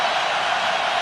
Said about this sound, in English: Miami crowd making some noise